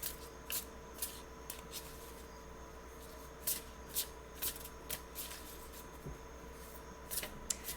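Tarot cards being laid out for a Celtic cross reading, a series of soft, quiet card slides and taps spaced irregularly over a low steady room hum.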